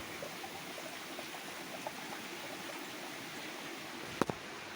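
Water flows steadily through the filters of a backyard aquaponics system, a constant soft trickling wash with a brief sharper knock near the end.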